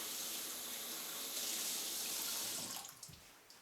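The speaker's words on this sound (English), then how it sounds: "I'm going to rinse off this one now" Water from a tap runs steadily while freshly dyed wool is rinsed in a sink, a close continuous splashing rush that fades and breaks into drips and light splashes near the end, with no speech.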